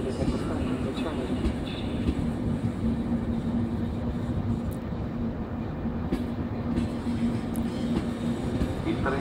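A train pulling out of a platform at Milano Centrale station, giving a steady rumbling roll under the hum of the station, with faint voices in the background.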